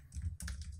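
Typing on a computer keyboard while entering an editor setting, a short run of soft clustered key taps close to the mic over a low hum.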